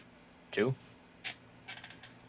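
A cat gives a single short meow with a falling pitch, near and fairly clear, followed by softer rustling noises.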